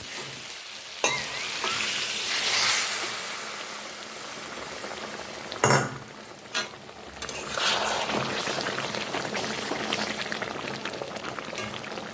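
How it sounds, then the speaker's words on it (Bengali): Hot water poured into a pot of dum chicken sets off a steady bubbling boil and sizzle, close and continuous, with a couple of sharp clatters and splashes partway through. "এবার আমি দিয়ে দেবো একটু গরম জল।"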